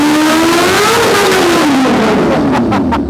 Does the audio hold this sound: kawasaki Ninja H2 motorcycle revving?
yes